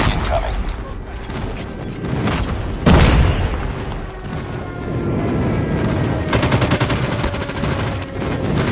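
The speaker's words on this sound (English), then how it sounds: "Friendly airstrike incoming." Airstrike explosions in Call of Duty Mobile land as loud booms with one heavy blast early on, while dense gunfire and machine-gun bursts continue under them throughout.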